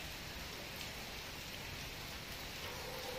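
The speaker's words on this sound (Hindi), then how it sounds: "बहुत तेज़ बारिश हो रही है" Heavy monsoon rain during the first downpour of Sawan pours down steadily in a dense, even roar close by, with no voices.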